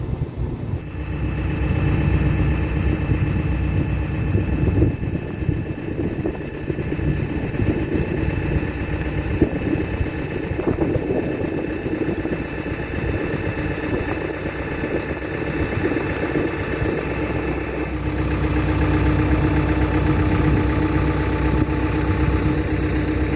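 A tractor engine drones loud and close while hauling a boat out of the water on a hydraulic trailer, holding a steady idling roar with slight load changes partway through, and no one talking.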